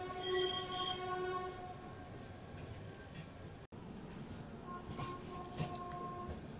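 Telangana Superfast Express train passing near Kazipet Junction by an electric loco shed, a steady rumbling rush with sustained tonal hums and whines running throughout at moderate, fairly close loudness, with no speech.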